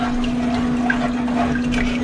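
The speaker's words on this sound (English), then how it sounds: "I'm gonna go ahead and pour in my last cup of milk and my 1/4 cup of sugar." Milk pouring into a cooking pot, a steady continuous liquid stream heard up close for a couple of seconds with no talk.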